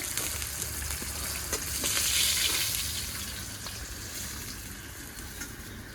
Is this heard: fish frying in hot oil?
yes